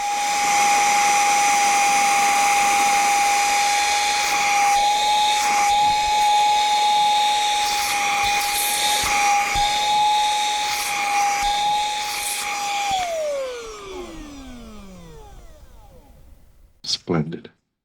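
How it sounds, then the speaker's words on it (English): A Parkside 12V mini blower and duster, used as a vacuum on a recliner, emits a loud steady high motor whine and airy hiss, then spins down with a falling pitch, followed by a couple of sharp knocks. "I'm impressed by the suction from this tiny vacuum."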